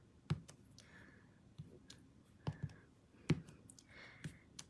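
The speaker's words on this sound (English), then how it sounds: "I'm going to stamp off so it's not too dark" Rubber ice cube stamp pressed repeatedly onto scrap paper for a card-making technique, giving sharp, close tapping clicks in irregular pairs and singles, with soft rustling between and no voices.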